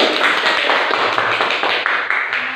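Students clapping in a classroom, a steady patter of many hands sustained throughout, dense and close with no pauses.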